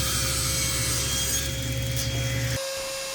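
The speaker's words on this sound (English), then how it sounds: "I'll just rip them down with my table saw" A table saw rips wooden slats for an Adirondack chair, a loud, steady whining cut that runs for over two seconds before the blade drops off into quieter spinning. No one speaks.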